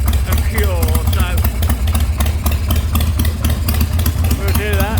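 A custom handmade chopper motorcycle idles while warming up, a loud, close, steady rhythmic engine chug throughout, with someone talking over it.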